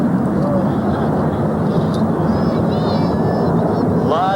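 A supersonic delta-wing jet passes at an air show with a continuous loud roar and rushing jet noise, steady from start to end, and faint higher whines drift over the top.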